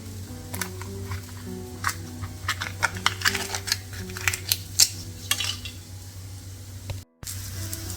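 Hot dogs cook in a covered pan for a hotdog curry: scattered metallic clinks and taps of utensils and lid sit over a low, steady hiss, with a brief dropout near the end.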